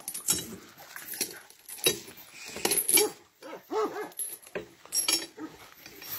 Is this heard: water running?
no